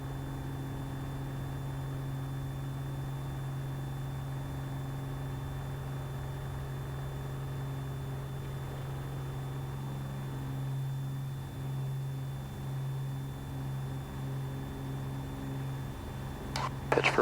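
A light aircraft engine running at full power during a takeoff roll, a steady droning hum that holds level throughout, with a brief burst of noise at the very end.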